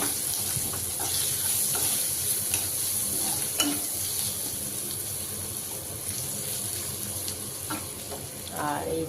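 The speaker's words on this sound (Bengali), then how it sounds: "এক কটা চিংড়ি ছিল লবণ হলুদ মাখানো, পেঁয়াজ দিয়ে একটু ভাজা ভাজা করে নিই" Prawns coated with salt and turmeric frying with onion in a pan, a steady sizzle with scraping stirs and occasional clinks, close and continuous, with running tap water briefly audible.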